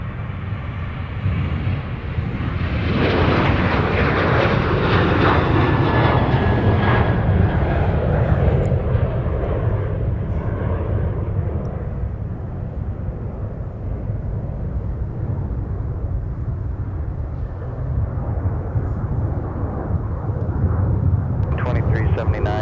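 An American Airlines jet takes off from MSP airport on a night departure to Dallas–Fort Worth, its broad engine roar swelling after a few seconds and staying loud and steady throughout, with talk over the noise.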